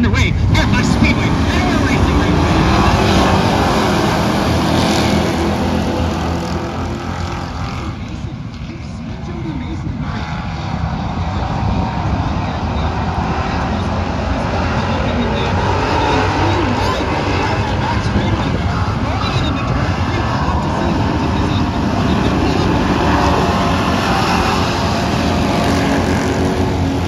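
Modified race cars roar around Buxton Speedway at the start of a race, a loud, continuous engine drone with the pack swelling and fading as it passes, under a voice.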